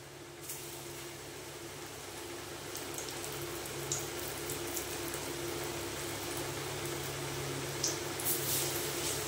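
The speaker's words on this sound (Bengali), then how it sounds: "স্টার্ট হয়ে যাচ্ছে বড়ার এবার এটা স্লো আছে ভেজে নামাবে" Bora fritters made from banana stem, with chopped green chilli in the batter, fry slowly in hot oil, giving a steady, fairly quiet crackling hiss with small pops and no talking.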